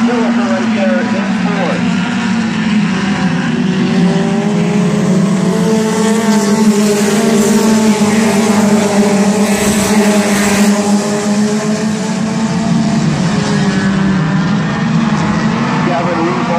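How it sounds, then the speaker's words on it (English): Compact race cars in an Open Compact feature at Midvale Speedway roar in a steady, continuous pack drone around the track, close and loud, while an announcer calls the race over the engines. "Salinger shares the race lead. Clark and Johnson battle for second."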